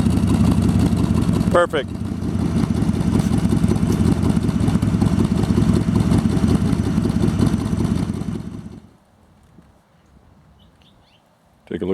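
A 1966 Chevrolet Corvette convertible with a 427 390-horsepower V8 idles loudly and steadily at close range as it backs up for several seconds, then cuts to near silence; a voice speaks briefly near the end.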